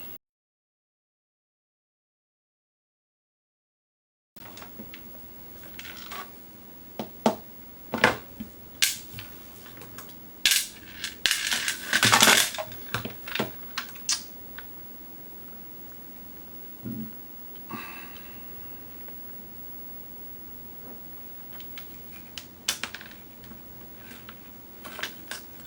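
Phillips screws being removed from the bottom of a Turbo Stick arcade controller: a scattered run of small clicks, scrapes and taps from a screwdriver and plastic casing, close and fairly quiet, following a few seconds of silence.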